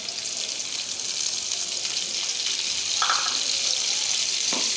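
Chopped onion frying for an Afghani omelette, a steady broadband sizzle running throughout with a few brief faint clinks near the end, no talking.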